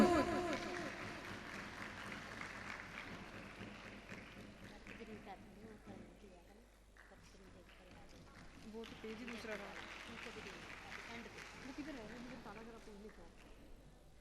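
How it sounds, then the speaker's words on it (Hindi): Audience clapping at a school camp event, starting strong then fading and swelling again over a PA announcer's continuous speech, with a crowd murmur underneath. "भरपूर तालियां, तालियों का सिलसिला थमना नहीं चाहिए।"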